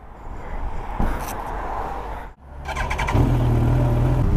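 A Yamaha R1 motorcycle, restricted to 48 PS, pulls away from a fuel station: a rushing wind-like roar, a sudden cutoff, then a loud steady engine drone building close by.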